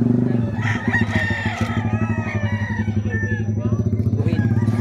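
Rooster crowing at a busy chicken market, the call rising over a steady motor hum and a voice talking throughout, with other birds clucking around.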